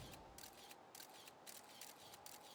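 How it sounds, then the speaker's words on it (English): Repeated camera shutter clicks from the video game Outer Wilds, a series of short bright snaps at an uneven rhythm over a steady low game ambience, fairly quiet and without talk. "I feel like I could do without there being a camera shutter sound effect every time that I move the camera"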